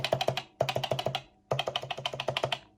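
Keys pressed on a Commodore PET 8032-SK keyboard, fast clattering bursts of about five to six clicks each, three groups separated by brief pauses, close and crisp with no voices.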